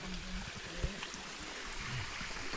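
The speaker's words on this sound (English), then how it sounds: "Little waterfall." A small waterfall near Ullswater in the Lake District gives a faint, steady rushing wash of falling water, with a few soft nearby bumps and knocks over it.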